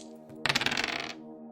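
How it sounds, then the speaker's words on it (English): Percentile dice roll and clatter across a hard surface, a quick bright rattle of about half a second followed by fading ringing, heard alone. "Rolling percentile dice twice."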